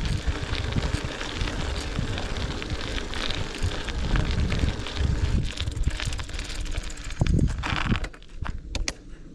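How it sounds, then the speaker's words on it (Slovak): Gusty wind buffets the microphone outdoors on a mountain bike ride up toward a mountain hut, a loud, rough rumble with fluctuating bursts that drops off near the end. "Troška fúka"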